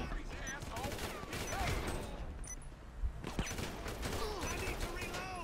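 Rapid gunfire crackles in bursts during a GTA V game, dense volleys of sharp shots up close with brief lulls, mixed with someone talking over the action.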